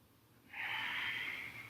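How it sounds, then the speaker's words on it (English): One soft exhaled breath during a yoga cooldown, a brief airy whoosh lasting about a second, close and quiet with no speech. "And exhaling to arch down."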